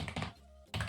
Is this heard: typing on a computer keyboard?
yes